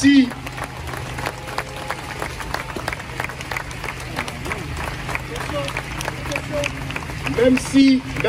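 A crowd applauds at an outdoor memorial gathering with youth socialist and SOS Racisme groups, a steady mass of clapping with a public-address voice speaking over it.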